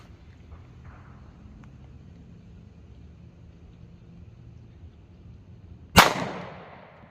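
A 9mm M&P Shield pistol fires Sig V-Crown 115-grain JHP ammunition at an outdoor range, one sharp, loud gunshot cracking out after several seconds of quiet background, with a short ringing decay.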